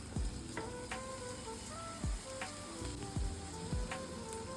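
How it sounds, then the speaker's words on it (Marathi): Vegetables frying in butter in a pan give a soft, continuous sizzle, broken by several sharp, low thumps and clinks spaced irregularly throughout. "व्हेजिटेबल्स थोड्या वेळात पूर्णपणे फ्राय होऊन जातील।"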